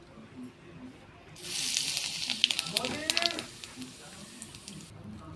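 Cumin seeds hit hot oil in a kadai with a sudden loud sizzle and crackling pops that gradually settle down.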